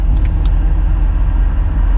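A 1982 Corvette Collector Edition, an American sports car with 200 horsepower, rumbles loud and close as it accelerates, a steady deep engine roar with a few faint brief squeaks above it.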